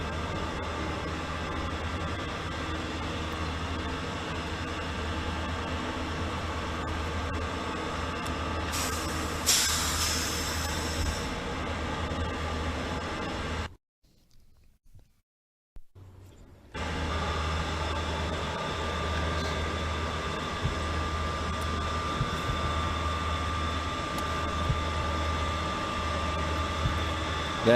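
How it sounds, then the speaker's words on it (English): A steady industrial rumble and hiss fills the air from a barge being loaded nearby, with a brief high screech and a short break in the noise. "fishing right near a barge that's getting loaded"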